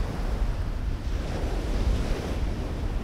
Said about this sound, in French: à chaque fois qu'une vague s'écrase, hein, vous allez entendre le bruit.